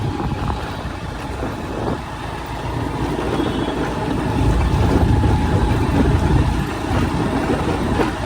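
A car climbs an off-road track into the hills, its engine droning loud and steady with rough rumbling and rattling from the rough ground. No one speaks.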